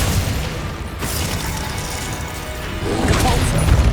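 Crashing, crackling spell impacts from the Glacius freezing spell in the video game Hogwarts Legacy, a dense noisy burst at first and another swelling one near the end, loud and busy throughout.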